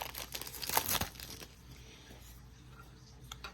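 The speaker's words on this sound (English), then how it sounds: "Let's open this thing up." Cable packaging box being opened, with a burst of tearing and crinkling of cardboard and film up close in the first second, then quieter faint handling rustles.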